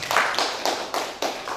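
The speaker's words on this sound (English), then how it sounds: "A clap for him, please." Audience clapping for a presenter at a sub-county sanitation meeting, five or six distinct hand claps at an uneven pace, close and moderately loud, sounding like only a few people.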